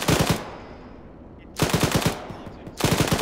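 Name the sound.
gunfire in the video game Arma 3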